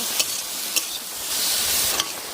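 Fried potato and eggplant sautéed in spiced oil in a pan for a Bengali curry, with a steady close sizzle and a few sharp spatula scrapes as the pieces are stirred.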